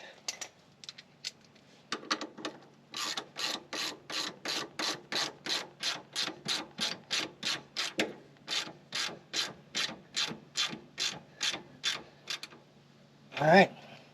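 Ratchet wrench tightening air shock bolts on a 1980 Chevy Camaro, a long run of quick, evenly spaced clicking strokes close by with a short pause midway, ending with a brief voice.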